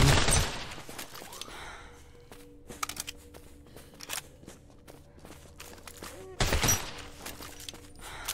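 Sharp bursts of gunfire crack in a zombie survival video game, a heavy volley at the start and another near the end, with sparse single shots and footsteps between under a quiet ambient drone.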